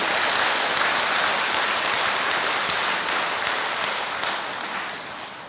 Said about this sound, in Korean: 우리 하나님께 박수 한번 올려드립시다.